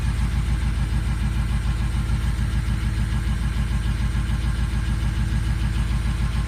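A 2004 Ford Powerstroke diesel runs after a long-cranking cold start, a steady, loud, close idle with an even low-pitched clatter throughout.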